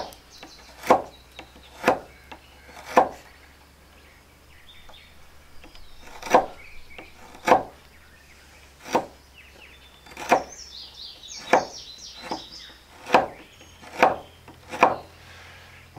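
A knife makes shear cuts down the sides of a wooden spindle for a pump fire drill, producing about a dozen crisp, close scraping strokes at uneven intervals, with faint birdsong between them.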